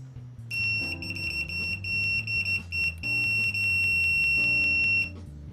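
A steady high-pitched electronic beep from a Mustool MT8208 multimeter's continuity tester holds for about five seconds, loud and continuous, with faint low rumbling underneath.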